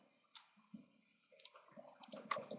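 A computer mouse in Catia V5 gives a handful of sharp, close, quiet clicks, first spaced apart and then in a quicker cluster near the end.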